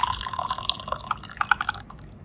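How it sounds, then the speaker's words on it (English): Rinse water from Dancong oolong tea is poured out in short gurgling splashes and drips that trail off toward the end, close and fairly loud, with no talking. "So let's pour out the rinse."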